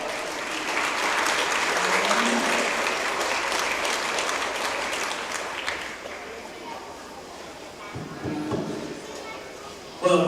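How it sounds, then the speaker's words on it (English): Applause from spectators at a Saunders County Fair 4-H market steer show, a full burst of clapping that swells early and then thins out, followed by faint arena noise and a voice. "Let's give them a big round of applause."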